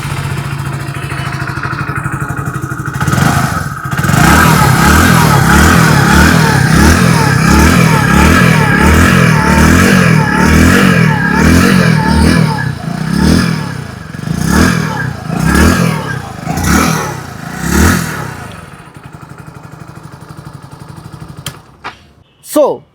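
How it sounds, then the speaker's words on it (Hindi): A 2025 Hero HF Deluxe Pro motorcycle idles with a steady putter, then is revved repeatedly in sharp, rhythmic blips that fade near the end, close and loud with no talk over it. "आइए अब सुन लेते हैं इस बाइक की एग्जॉस्ट नोट।"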